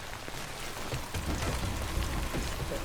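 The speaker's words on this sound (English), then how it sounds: "Is this rain very acidic?" Steady rain in the video game Death Stranding patters and hisses on surfaces, a dense even wash of drops with no voices.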